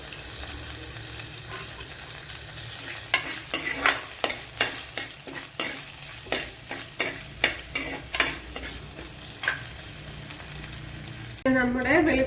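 Garlic and curry leaves fry in a pan of hot oil for sardine curry, a steady sizzle broken by a run of sharp stirring scrapes, with a brief louder spatter at the end.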